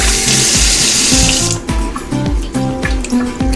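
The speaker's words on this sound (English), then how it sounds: "I'm going to wash my rice thoroughly." Rice being washed in a kitchen sink under running tap water: a loud hiss of flowing water, then sloshing and swishing as the grains are stirred, with no voices.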